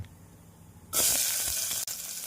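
After a quiet moment, a loud burst of sizzling erupts as chopped onions hit hot oil, then settles into a steady, crackling fry.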